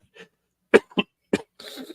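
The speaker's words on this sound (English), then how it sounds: "the Comic-Con cough. There it is." Several short, sharp coughs in a quiet room, a few spaced bursts followed by a rougher, drawn-out throaty rasp, all close and fairly loud with no talking.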